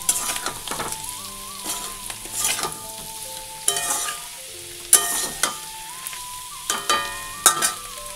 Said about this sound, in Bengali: এই যে আলু ভাজা হয়ে গেছে